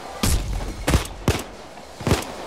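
Gunfire in the video game Payday, heard as four separate loud booming shots spaced irregularly over a low background, with no talk over them.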